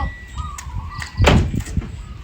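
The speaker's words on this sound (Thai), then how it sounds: "ปิดประตู" An indoor door slides and closes with one dull, heavy thump at the midpoint amid low rumbling background noise and faint clatter, with no voices.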